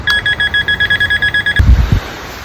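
A handheld metal detector sitting right over metal beeps fast and steadily, about a dozen short pulses in quick succession, then falls silent after a brief clunk of handling.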